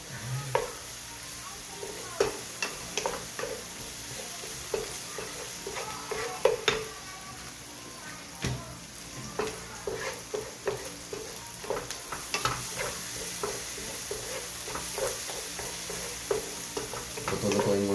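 Eggs frying for an omelette in a pan, a soft continuous sizzle broken by irregular scraping and clinking as a utensil stirs and taps against the pan, fairly faint and close.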